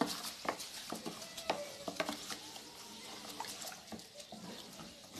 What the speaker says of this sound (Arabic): ندير عليه الماء بحال هكا ونحاول نصفيه